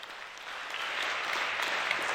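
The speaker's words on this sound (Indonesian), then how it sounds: "Kita berikan tepuk tangan yang sangat meriah." Warm applause from an indoor audience at a public debate between regency candidates in Poso, a steady wash of clapping that builds slightly and stays even, heard at a moderate distance.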